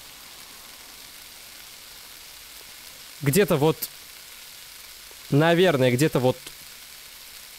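Food frying in a pan in the Cooking Simulator video game makes a steady, soft hiss throughout, while someone speaks briefly twice over it.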